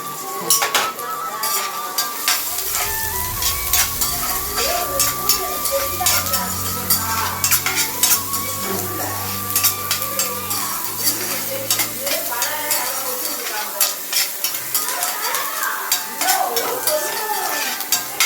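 Sliced onions fry in oil for prawn thokku while a spoon stirs and scrapes against the pan with frequent metallic clinks, a close, busy sizzle running throughout with some faint background sounds underneath.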